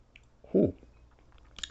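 Someone takes a bite of food topped with Odawaraya Japanese garlic red hot sauce: one close, crunchy bite and chew, followed by faint mouth clicks in a quiet room.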